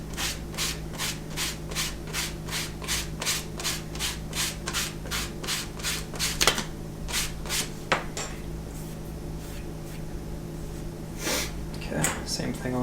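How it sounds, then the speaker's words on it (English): Damp sanding of a leather bi-fold wallet's edge, quick rhythmic back-and-forth rubbing strokes all in one direction, close and fairly soft, repeating steadily with a couple of sharper knocks partway through. "And then, as I always do, a little damp sand."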